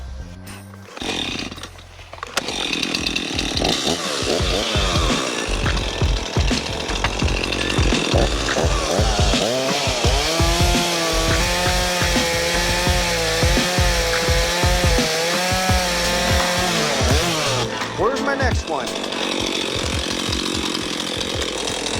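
A chainsaw roars steadily through wood for most of the clip, its engine pitch wavering as it bites, with a brief spoken question near the start.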